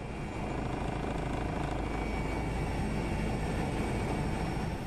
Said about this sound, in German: Manuela Ulich bleibt beim Hubschrauber.